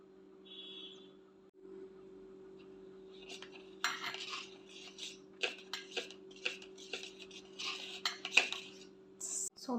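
A spoon stirs and scrapes through a thick hair-pack paste with lemon juice in a bowl, making soft irregular clinks and scrapes that grow busier midway, over a steady low electrical hum with no talking.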